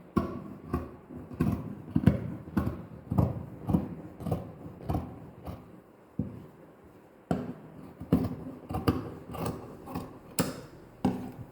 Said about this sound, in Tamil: இப்போது ரெண்டு சைடு எல்லாமே கட் பண்ணியாச்சு